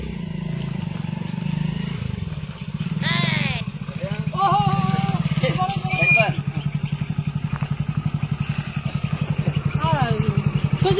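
A second-hand motorcycle idles nearby, its engine ticking in a steady rapid rhythm that grows more pronounced toward the end, while people talk loudly over it.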